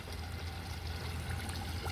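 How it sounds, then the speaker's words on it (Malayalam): Water rising and trickling into a homemade aquarium filter made from an onion sack, a steady continuous flow with a low rumble, close and moderately loud, no voices. "ഐസി വെള്ളം നിറഞ്ഞു കേട്ടോ. വെള്ളം അതാ കയറി വരുന്നു"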